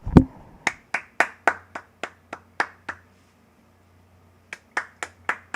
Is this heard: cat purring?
no